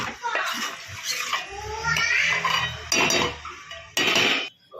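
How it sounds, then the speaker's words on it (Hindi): Gravy water poured into a pan of mushroom and paneer curry, a splashing, hissing pour with clinks of utensils against the cookware, fairly close, stopping and starting a few times. "जो हमारा ग्रेवी का पानी था वो डालेंगे"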